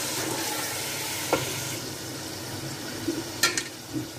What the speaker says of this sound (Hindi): लहसुन अदरक ऐड कर देंगे सभी, और इसको अच्छे से हम भूनेंगे